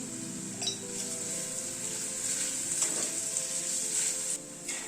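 Potato pieces fry in a pan with salt and turmeric, giving a steady close sizzle, with a few stirring scrapes and light clinks of a utensil against the pan.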